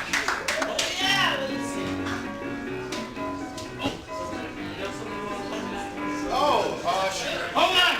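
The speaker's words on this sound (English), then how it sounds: "Give yourselves a round of applause for coming out to Improv." Scattered applause from an audience at a live improv comedy show in a bar basement, uneven clapping bursts mixed with chatter and children's voices, people talking over much of it.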